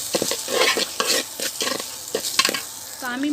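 Rice frying with onions for pulao crackles loudly up close, with quick scraping stirs in an uneven rhythm and a short voice at the end.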